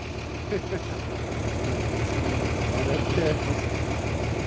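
A Ford Ranger pickup engine runs at a steady idle before towing, a low, constant rumble close by, with people talking over it.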